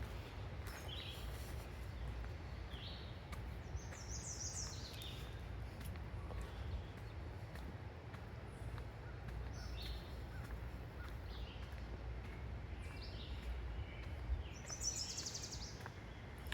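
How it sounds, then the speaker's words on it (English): Faint woodpecker calls ring out from a distance, short high bursts repeating every few seconds over a quiet outdoor background. "I hear a woodpecker."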